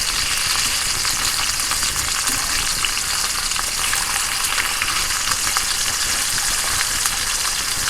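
Small bacon pieces submerged in peanut oil and frying, giving a loud, dense, continuous bubbling sizzle with no speech over it.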